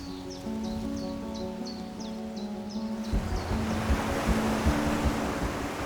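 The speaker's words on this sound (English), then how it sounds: "Every wave rolling into Fingal's cave creates a strange symphony across the ocean." Ocean waves surge into Fingal's Cave, a sea cave in stone walls, as a broad rolling rush that grows louder and rougher halfway through, after a stretch of musical tones and chirps.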